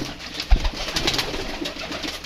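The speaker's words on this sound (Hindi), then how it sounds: "ये जी माशाल्लाह दोस्तों कबूतर है" Pigeons coo in a loft setup, a low soft throaty call rising briefly near the start over a faint background hiss, close and short with no voices.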